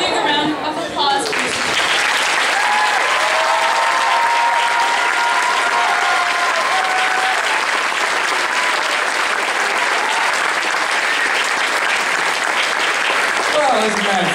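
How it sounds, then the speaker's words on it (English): A big audience at a seniors' gifts and speeches event breaks into loud, sustained applause that fills the hall for many seconds, with a voice briefly heard at the start and end. "a big round of applause"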